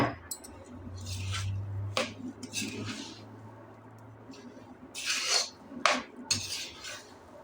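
A spoon scrapes and stirs gram flour mixed with cardamom powder in a pan, giving several close, uneven metallic scrapes and clinks with quieter gaps between them.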